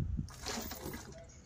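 Water splashing and sloshing as a siphon transfer pump moves it into a container, a short burst of splatter at close range, fairly quiet and steady.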